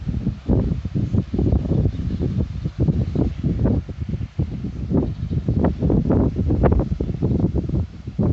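Gusty outdoor wind in Iowa buffets close against the microphone in rough, uneven bursts, a constant low rumble with no voices.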